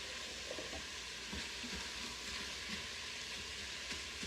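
Sausage, garlic and onions brown in an Instant Pot, giving a steady, close sizzle and crackle that runs without a break, with faint stirring knocks and no talking.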